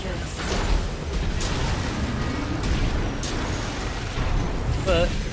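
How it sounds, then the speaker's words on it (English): A missile slams into an airborne mech in Armored Core VI, with rumbling explosive booms and mechanical clatter sustained throughout, loud and dense, with a brief whistling tone near the end. "Got hit with a missile midair there."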